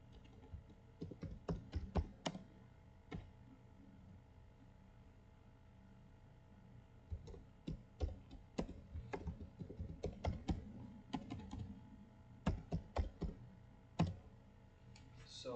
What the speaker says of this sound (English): let's type Recon.